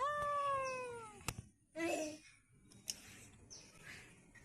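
A cat that has climbed up high gives one clear, drawn-out meow near the start, followed by a few faint knocks, rustles and a soft chirping call against a quiet background.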